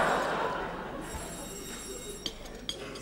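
An old telephone bell rings faintly in a room in a 1964 rural German comedy setting, a thin steady ring over low background noise with a few small knocks.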